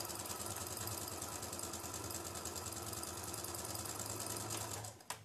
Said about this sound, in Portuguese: Agora, vou costurar esse daqui.